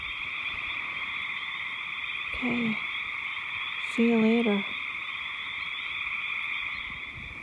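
A steady, dense chorus of frogs croaking fills the background, with a person briefly speaking twice over it.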